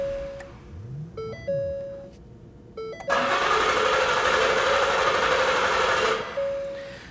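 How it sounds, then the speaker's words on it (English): Warning chimes from a 2010-2019 Ford Taurus 3.5L V6 with the fuel pump disconnected, then the engine catches with a loud, steady roar for about three seconds before dying, and the chimes return. "we're now going to hop into the vehicle, start it up, and let it run until it dies."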